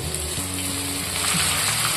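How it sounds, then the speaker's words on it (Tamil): Low, steady sizzling and crackling of ripe tomatoes sautéing in hot oil, fairly faint, with a faint hum underneath. "தக்காளி நல்லா எண்ணெயில் வதங்கி குழஞ்சு வரணும்"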